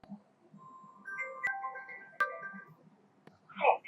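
A phone rings with an incoming automated call delivering a verification code: a short electronic melody of clear tones, close and moderately loud, with brief clicks and a faint voice near the end.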